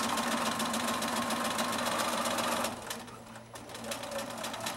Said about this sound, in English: I'm back stitching again and then sewing off